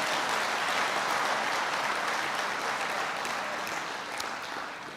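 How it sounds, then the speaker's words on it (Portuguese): Congregation applause during a church sermon, a dense, even wash of many hands clapping at once, sustained throughout and easing slightly toward the end. "Você pode aplaudir em nome de Jesus por esse fundamento."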